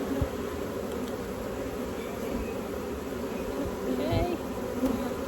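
Honey bees buzz around an open beehive, a dense, continuous close-up hum with individual bees droning past, steady and moderately loud throughout.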